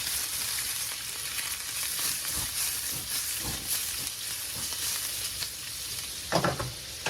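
Chicken hearts browning in a pan, a bright constant sizzle with soft stirring scrapes and a louder burst of clatter toward the end, close and without speech.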